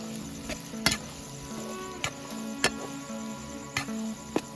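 Stuffed kantola (spiny gourd) frying in oil while being stirred, a steady soft sizzle with several sharp utensil clinks and scrapes against the pan, close and alone.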